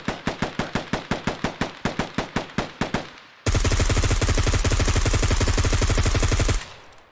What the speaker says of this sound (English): taking fire from somewhere